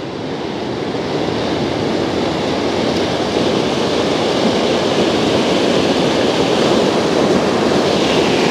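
Water flowing in Georgetown, Colorado, a steady, loud, broadband rush that holds unchanged throughout with no voices.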